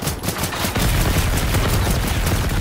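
Video game shotgun fire amid a loud, dense barrage of gunshots, continuous and close, with no clearly separated single blasts.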